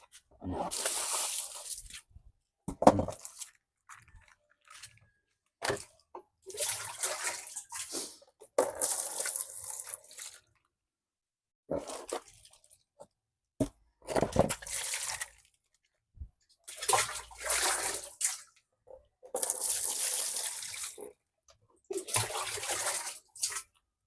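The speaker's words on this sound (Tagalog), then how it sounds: "Kasi lagyan mo uli ng tubig to." Water poured and splashed in bursts for hand-washing laundry without a washing machine, in short repeated pulses with quiet gaps between them, close by.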